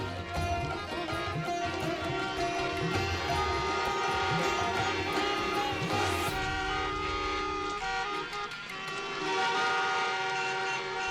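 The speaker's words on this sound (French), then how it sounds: "Ici, le klaxon est roi." Loud, sustained vehicle horns blaring over a rumbling traffic roar in Varanasi, India, the tones shifting and overlapping before easing off.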